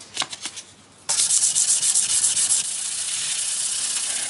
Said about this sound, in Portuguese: E vamos voltar para a lixa. 180 de novo.